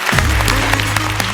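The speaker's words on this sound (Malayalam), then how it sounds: "നല്ലൊരു കൈയടി" A television comedy show audience breaks into loud, continuous applause, dense clapping close up with a low hum underneath.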